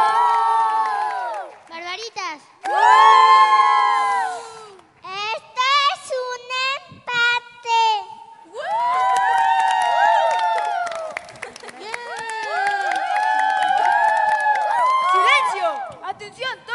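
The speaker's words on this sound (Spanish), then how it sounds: "¡Aplausos para las Barbaritas!" Children and a crowd at a festive holiday show shout and cheer in loud, pitched bursts with brief gaps between them, and only light clapping shows beneath the excited voices.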